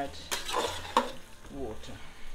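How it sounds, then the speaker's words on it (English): Masala and lamb for a dal curry being stirred in a pot give scraping spoon strokes and clatter over a gentle sizzle of frying, a few distinct stirs in close succession. "So stir it for a minute or so"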